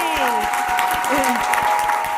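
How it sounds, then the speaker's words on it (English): A panel audience at a women in business and leadership discussion applauds, with steady dense clapping and cheering while voices call out over it throughout. "Round of applause for these ladies."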